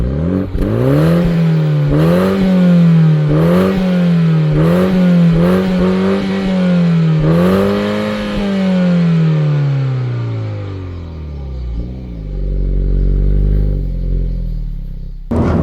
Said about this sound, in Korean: 굉장히 아주 매력적인 이 배기음이 나오기 때문에 주행할 때 즐거움이 더 배가가 되는 것 같고요.